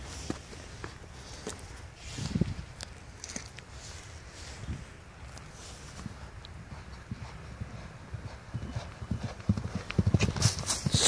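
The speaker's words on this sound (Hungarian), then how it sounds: "Gyönyörű ló." A horse walks on a hard surface, hooves clip-clopping in an uneven rhythm, fairly close, with faint voices now and then in the background.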